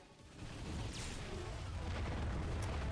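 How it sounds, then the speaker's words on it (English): A cannon fires in the Ratchet & Clank video game, a booming rumble that swells and then holds as a sustained roar, with a faint sweeping whine and a brief crackle. "Cannon's ready. Fire!"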